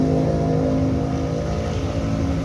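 A Bandit 1200 drag motorcycle on nitrous gives a loud, continuous, close-up engine roar at high revs as it pulls hard down the strip, with no talking.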